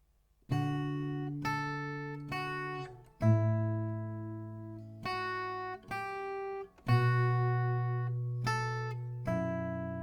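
Slow acoustic guitar playing, solo, with chords and single notes struck one at a time and allowed to ring out between strokes.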